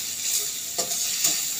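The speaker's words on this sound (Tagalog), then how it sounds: "So, fry muna natin yung egg." An egg frying in oil in a pan, a soft steady sizzle with a couple of brief scraping stirs, close and fairly quiet with no talk.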